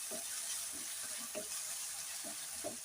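Yam pieces fry in oil with masala, ginger-garlic paste and mint in a pan, giving a soft, steady sizzle with occasional low bumps from stirring, quiet throughout.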